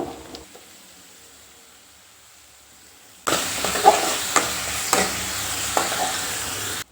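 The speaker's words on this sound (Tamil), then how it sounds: "இது நல்லா வதக்கி விட்டுக்கலாம்" Onions, green chillies and a handful of curry leaves sauté in a hot pan for egg chukka, a steady close sizzle and frying crackle that starts abruptly after a near-silent lead-in, with occasional stirring clicks.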